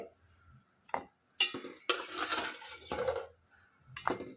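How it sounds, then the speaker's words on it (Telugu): Fried sweet dough balls tumble into sugar syrup in a home kitchen, with scattered clinks, knocks and soft wet plops coming in irregular bursts, close and moderately loud. "ఈ వేగిన బాల్స్ అన్ని మనం ఈ పంచదార పాకంలో వేసుకోవాలండి"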